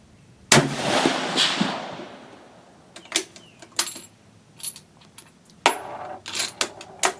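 A single loud shot from a sporterized 1898 Krag carbine in .30-40 with a short barrel, firing Remington Core-Lokt loads, followed by a decaying report and then light metallic clicks and clatter of the action being worked.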